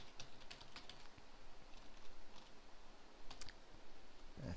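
Rapid keystrokes on a computer keyboard entering a password, a steady run of close, crisp clicks with short pauses and no talking.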